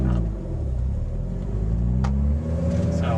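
A car pulls away with its engine running, a steady low rumble that builds slightly as it drives off, with no talking heard.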